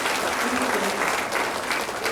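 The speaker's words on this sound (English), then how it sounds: "Give him a round of applause." Audience applause at the launch event of a holistic healing foundation: a dense, steady burst of clapping from a full room, close and loud, with no talk over it.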